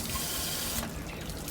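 Water running steadily as it is flushed out of an RV water heater tank with a wand and on-off valve, a constant close splashing rush that shifts slightly partway through, with no talk.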